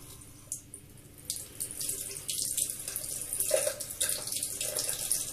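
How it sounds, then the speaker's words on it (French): Lukewarm tap water runs steadily into a sink to soak two makeup-removal sponges, with soft splashing and squeezing close up and no talking. "Que j'imbibe bien d'eau surtout"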